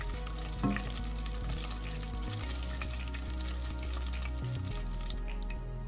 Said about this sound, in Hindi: इस सबको हम फ्राई कर लेंगे अच्छी तरह।